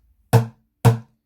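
Two deep, thudding bass strikes on a plastic bucket drum, evenly spaced about half a second apart, close and clean with silence around them.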